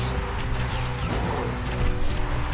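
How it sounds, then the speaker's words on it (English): A flame bot charging up in a video game, a dense grinding mechanical rumble with ratcheting textures and faint high whines, loud and steady throughout. "That's the sound of a charging beast."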